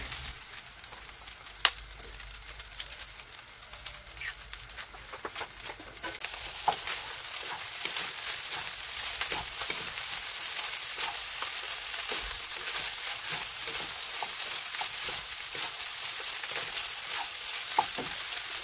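An egg added to a pan for fried rice starts sizzling: quiet at first, then a sudden, steady, bright hiss with small pops that runs on alone for the rest of the clip.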